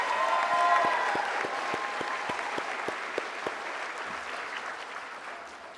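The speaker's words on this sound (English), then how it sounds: "Let's give these students a round of applause for this incredible accomplishment." Commencement crowd at an online public school graduation applauds the Class of 2026 graduates, a broad sustained wash of clapping with a steady rhythmic pulse of cheering or rhythmic claps running through it, fading slightly toward the end.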